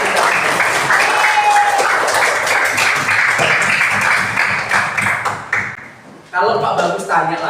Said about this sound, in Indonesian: Boleh tepuk tangan yang semangat buat kita.